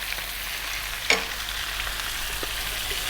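Onion, fresh chilies and ginger garlic paste fry in a pan over medium heat, giving a steady soft sizzle with a sharp clink of a utensil against the pan and faint stirring scrapes.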